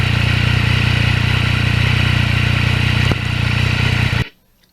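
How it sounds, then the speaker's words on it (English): A Yamaha MT-09 motorcycle engine and exhaust runs at a steady, loud idle-like drone close by for about four seconds, then cuts off abruptly into near silence. "The sound of a motorcycle is part of the experience."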